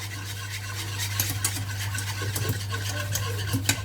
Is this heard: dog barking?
no